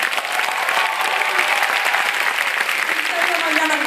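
An audience at a School of Economics keynote address gives a round of applause for teachers and administrative staff, a full, steady wash of clapping throughout.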